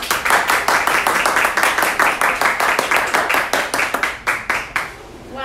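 Audience applause at a business opportunity presentation, a small group clapping in quick, distinct rhythmic claps that thin out and stop near the end.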